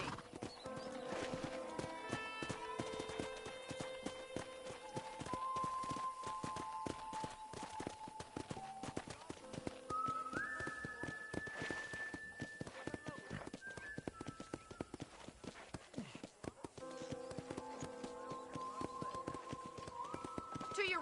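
Horse hooves clip-clopping steadily in the Red Dead Redemption video game, a regular trotting rhythm that runs throughout beneath game music tones and a talking voice.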